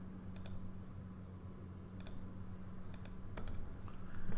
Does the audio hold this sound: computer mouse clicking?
yes